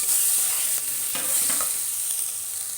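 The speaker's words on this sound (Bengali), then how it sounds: "এবার পেস্ট করে রাখা মশলাটা দিয়ে দিচ্ছি, দিয়ে এটা কষিয়ে নেব" Chicken is stir-fried with ground masala paste in a pan, a loud continuous hiss with scraping stirring strokes bunched in the middle.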